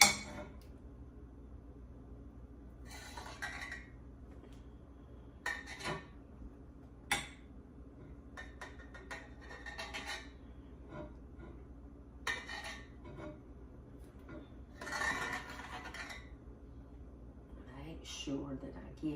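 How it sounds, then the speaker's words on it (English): A metal spoon scraping and clinking against a pot while skimming foam off dandelion jelly, with scattered light taps and scrapes under a low steady background hum. "You want to get this off with a metal spoon."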